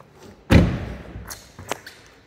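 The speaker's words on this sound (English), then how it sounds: "You pull the trigger and it pops the boot open." The boot of an Audi releasing open, a single firm thud followed by a few light clicks and taps as the lid lifts, close and fairly quiet, with no voices.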